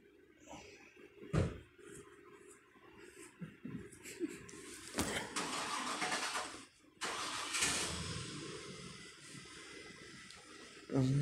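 An engine cranks and turns over, then runs roughly with uneven revving, close by, with a brief clunk and a few muffled voices around it.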